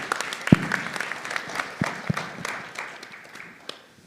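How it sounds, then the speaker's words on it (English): Conference audience applauding a panel in a hall, a moderate round of scattered clapping with a few sharper close claps, thinning toward the end. "Let's give that last panel one more round of applause."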